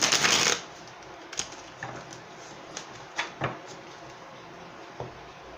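Tarot cards shuffled and drawn, a brief dense riffle at the start followed by scattered soft taps and slides of cards being pulled and placed, close and fairly quiet.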